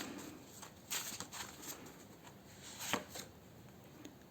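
Playing cards are shuffled repeatedly, with soft riffling and slapping bursts over a quiet background hiss, close and fairly faint.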